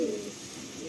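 A male Madrasi pigeon gives a brief low coo at the very start, quickly fading into a quiet room hum.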